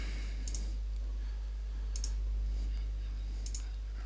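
A computer mouse clicks three times at a desk during CAD work in TopSolid 7, crisp single clicks spaced about a second and a half apart over a steady low hum.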